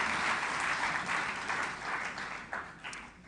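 Applause at the opening session of the ARIPO gathering, a broad, fairly distant wash of clapping from a large audience that gradually thins toward the end.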